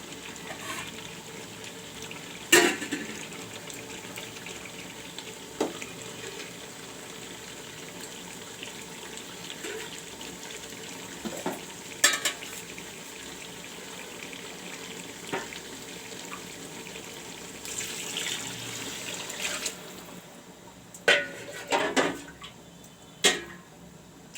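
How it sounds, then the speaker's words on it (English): Hot water pours from a tap into a pot of mutton curry with potatoes, a quiet, continuous trickle and splash with a few sharper clanks and bumps scattered through, louder toward the end. "now I am putting the hot water"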